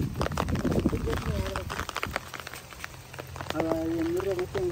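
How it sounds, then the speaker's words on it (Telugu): Rain falls steadily in a village, a continuous patter of drops on surfaces that stays moderately loud while a person talks over it. "ఇక వర్షం అయితే కంటిన్యూ పడుతూనే ఉంది."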